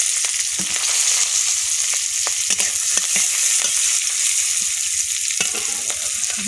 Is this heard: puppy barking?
no